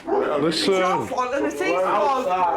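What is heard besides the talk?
dog barking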